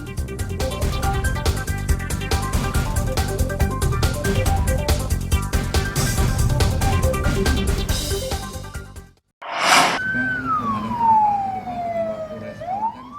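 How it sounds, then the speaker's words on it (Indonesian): A fire engine's loud wailing siren with blaring horn bursts over engine rumble, rushing to a hotel fire drill, cutting off briefly, then a rising-and-falling siren sweep resumes nearby. "Mobil pemadam kebakaran ini bergegas menuju ke salah satu hotel"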